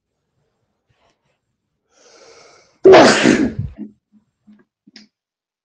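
A single loud sneeze bursts out after a short indrawn breath, followed by a few faint rustles, during a technical meeting about NTP.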